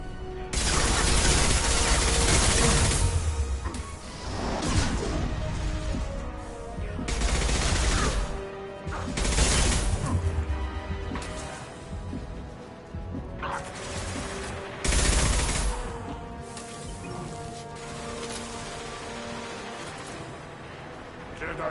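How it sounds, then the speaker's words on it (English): Heavy gunfire in the video game Mass Effect 2 on Insanity difficulty: repeated loud bursts of rapid shots and crashes, with brief lulls between, running throughout alongside in-game voices. "Taking heavy fire!"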